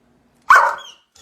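A pit bull barks on command: one loud, sharp bark, close and alone in an otherwise quiet room.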